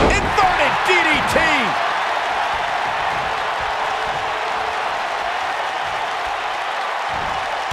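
A wrestler is driven to the mat by an inverted DDT before a capacity crowd at a wrestling event: a sharp slam and whoops up front, then a constant loud crowd roar, with a commentator talking over it.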